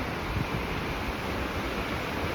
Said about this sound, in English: this is the river